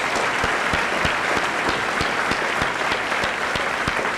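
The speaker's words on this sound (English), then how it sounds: "Let's give them a nice round of applause." A school assembly audience applauds steadily, dense clapping with a few sharper individual claps standing out, sustained at even loudness throughout with no talk.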